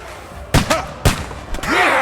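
Two sharp, loud gunshot cracks about half a second apart ring out in the medieval combat game Kingdom Come Deliverance II, followed by a third fainter report and a rising shout-like sweep.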